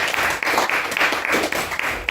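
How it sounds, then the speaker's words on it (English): Audience applause at a microtonal music conference concert, a steady wash of many hands clapping, fairly close and continuous for a couple of seconds with no voices. "let's applaud and listen to them"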